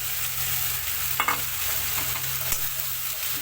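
Gobindobhog rice fries with cooked spices in oil in a pan, giving a soft continuous sizzle under a low steady hum, with a couple of brief stirring scrapes.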